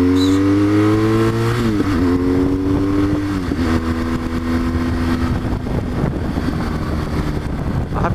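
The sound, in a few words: motorcycle with Arrow exhaust can accelerating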